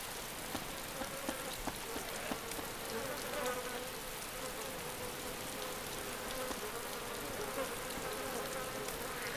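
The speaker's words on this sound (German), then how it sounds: "Hier höre ich Summen." Steady insect buzzing from the DayZ mod game, a low continuous drone running the full length at moderate level with faint crackling texture and no voices.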